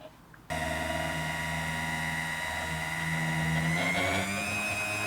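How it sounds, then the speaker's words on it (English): A stick blender whirs steadily through cold process soap batter mixed with annatto, starting abruptly after a brief quiet moment and holding a loud, continuous motor drone with a slight pitch shift near the end. "Let's add my Annatto in here. Let's get these blended up then."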